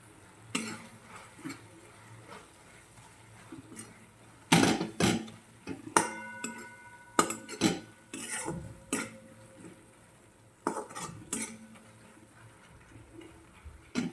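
Spices are stirred into a leafy amaranth vegetable curry in a pan. A spoon scrapes and knocks against the metal in uneven clatters over a soft, steady sizzle, with no talk.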